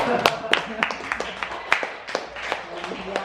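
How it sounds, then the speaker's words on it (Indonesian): A small audience at a literacy school event claps with sparse, distinct hand claps in a loose, fairly regular rhythm, moderately close. "Tepuk tangan untuk kita."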